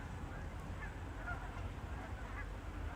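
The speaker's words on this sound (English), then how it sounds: "If I stop talking, you'll be able to hear geese in the background." Geese honking outdoors beside a red barn in falling snow, distant and faint, a few scattered calls rising over a steady low outdoor rumble and wind noise.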